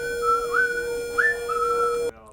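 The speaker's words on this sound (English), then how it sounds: "I'm pretty much whistling all the time" A person whistles a short, clear, melodic tune close by, the notes sliding between pitches for about two seconds before stopping abruptly.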